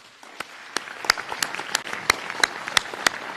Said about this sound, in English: we owe them a big round of applause.